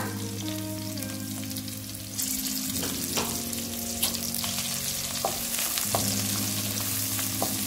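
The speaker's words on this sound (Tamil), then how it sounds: "சேர்த்துட்டு இந்த மாதிரி நல்லா வதக்கிக்கோங்க" Crushed garlic sautés in a hot pan as the base for a fish curry, a steady loud sizzle with scraping stirs and short clinks of a spoon against the pan throughout, no voices.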